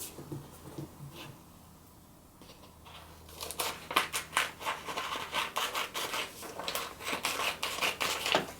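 Scissors snipping through folded paper for a snowflake, a rapid run of crisp close cuts after a quieter start, with no talking.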